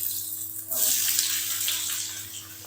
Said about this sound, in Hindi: प्याज को आपने इतना फ्राई करना है कि इसकी जो कलियां है ना प्याज की वो अलग हो जाए